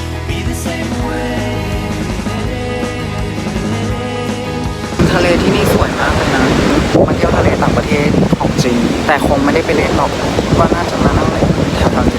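Sea waves wash onto a beach in Vietnam while strong wind buffets the microphone, making a loud, continuous rushing roar that grows rougher partway through.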